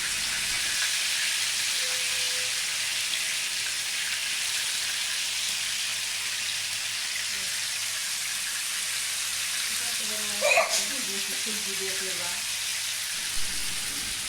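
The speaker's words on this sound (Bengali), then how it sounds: "মাছগুলো বাদামি হয়ে না যাওয়ার আগ পর্যন্ত আমরা কিন্তু খুব সুন্দর করে মাছগুলো ভেজে নিব" Rui fish fillets frying in oil in a pan, giving a steady, even sizzle that holds across the whole stretch, with a few brief clinks of cookware near the end.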